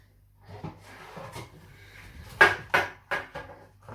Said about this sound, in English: I'm going to get a chopping board.